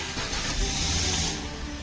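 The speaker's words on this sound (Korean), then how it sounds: "엔진 스타트가 이루어집니다" Hyundai Grandeur TG engine cranking and catching after a push of a retrofitted start button, a short broad hiss and low rumble filling the moment, steady and close with no talk.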